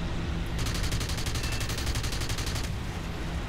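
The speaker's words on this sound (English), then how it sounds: "Making use of the burst of the cannon fire" Rapid burst of aircraft cannon fire from an Fw 190 D-13 fighter in the War Thunder combat game, a fast even stream of shots lasting about two seconds over a constant loud engine roar.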